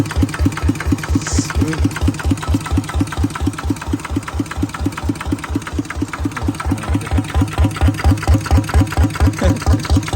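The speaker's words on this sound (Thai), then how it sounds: "นี่มันก็คือรถไถ" A farm tractor engine fitted with an aftermarket exhaust idles loudly and close, its fast, even chugging knock repeating without pause through a rattling exhaust.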